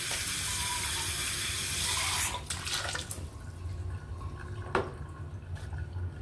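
Tap water runs into a kitchen sink as canned mackerel is rinsed with turmeric, a steady broadband rush for about two seconds that then cuts off, leaving a few faint drips and clatters.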